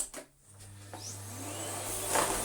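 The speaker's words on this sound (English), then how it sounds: "we can do some vacuuming again with this machine" A Miele C3 vacuum cleaner with a repaired motor, knackered wand and Miele floor head spins up and runs, a steady whining hum that builds and holds, close and loud, without talk.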